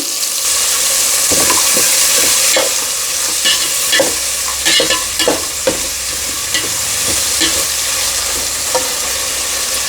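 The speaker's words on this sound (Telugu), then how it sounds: "ఇప్పుడు వీటిని వేసేసుకుందాం ఇవి పచ్చి అలసందలు వీటిని బాగా మిక్స్ చేసుకుందాం" Raw black-eyed peas are stirred in a frying pan, with a loud continuous sizzle and repeated scraping and clattering strokes from the spoon close up.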